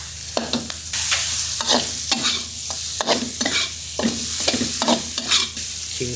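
Sliced ginger and garlic sizzle in a hot pan, with a bright steady hiss cut by repeated rhythmic scrapes and stirs of a spatula, loud and close.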